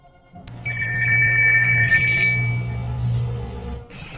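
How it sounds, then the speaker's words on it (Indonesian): A telephone bell rings once, a bright trilling burst lasting about two seconds, then fades into a quieter tail. "telepon ibunya pun berdering dan si Charlie langsung menutup teleponnya."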